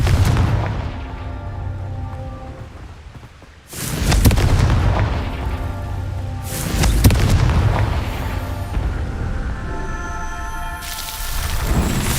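Fiery Confringo spell blasts in the Hogwarts Legacy video game, two loud booming explosions about three seconds apart followed by a lingering rumbling tail over ambient game music, with no talking.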